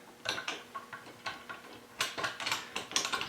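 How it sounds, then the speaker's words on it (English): Small thumb screws are tightened back into a laptop stand, giving a quick series of close, light metallic clicks and ratcheting ticks over a few seconds, with no one speaking. "Line it up, put these little thumb screws back in"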